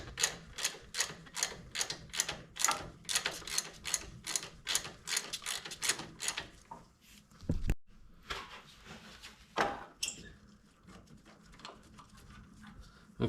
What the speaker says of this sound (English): Okay, so now we're going to take these 2 bolts off.